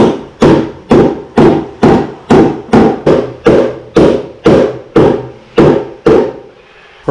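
Hammer and dolly strike a new car quarter panel about a dozen times in a steady, evenly spaced rhythm, each blow a loud, close metallic knock with no talking, then a short quiet gap at the end.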